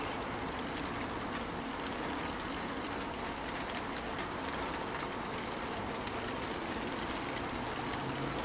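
Steady rain falling outdoors, a dense even hiss of drops filling the whole stretch at constant moderate level, with no voices.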